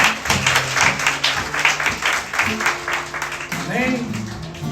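Applause in a church congregation during a worship service, loud clapping from many hands mixed with cheering voices and a sustained musical tone underneath.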